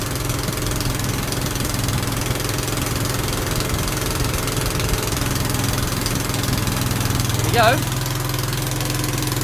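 A Honda GX160 generator engine runs steadily under load, a loud continuous droning hum with a low mechanical throb, while a person speaks briefly over it near the end.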